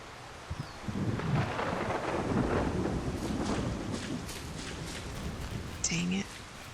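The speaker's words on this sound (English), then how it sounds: "Oh, it's raining again? Oh, it's a storm." Thunderstorm with steady rain in the video game Solarpunk, a broad rumbling wash of rain and thunder running throughout at moderate loudness, with a person talking over it.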